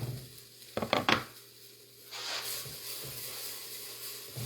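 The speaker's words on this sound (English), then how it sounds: "It's already starting to saute up." Onions sautéing in a pan for chili, a faint low sizzle joined by a few sharp knife or utensil clicks on the pan early, then a steadier soft hiss.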